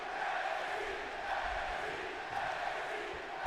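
Arena crowd in WWE 2K22 roaring and booing loudly, a dense, sustained wash of many voices filling the whole stretch without a break.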